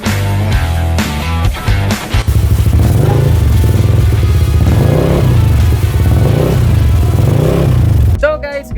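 Yamaha Aerox 155 scooter fitted with a JVT pipe v.3 exhaust, its engine droning loud and close with revs rising and falling, echoing in a tunnel, with a voice heard over it.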